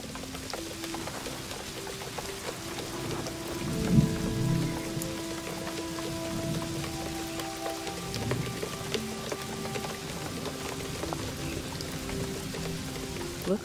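Steady rain hisses throughout at an even level in the video game Seasons: A Letter to the Future, with a low droning hum and a few muffled thumps underneath.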